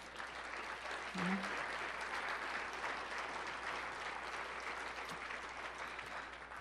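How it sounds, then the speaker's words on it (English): An audience at a bowling hall of fame induction gives a steady round of applause, even and continuous, with a brief voice near the start. "please stand really quickly so everybody can give you a round of applause for the recognition you deserve"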